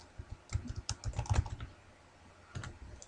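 Typing on a computer keyboard while entering a name into a spreadsheet cell, a quick run of close, crisp key clicks followed by a short pause and a few more taps.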